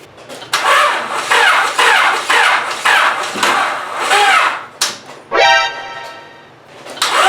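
A turbocharged D16 engine in a Honda Civic cranks in a run of rhythmic starter churns, pauses, then catches briefly with a loud rising whine before fading, heard up close with no talking.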